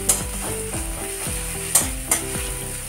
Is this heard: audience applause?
no